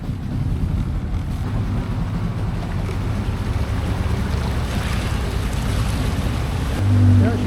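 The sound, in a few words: boat crossing a fast flowing river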